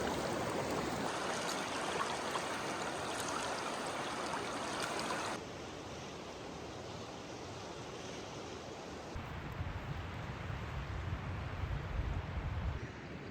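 Water of the Deschutes River flows steadily, a broad continuous rush near the microphone with shifting intensity and light wind, no voices.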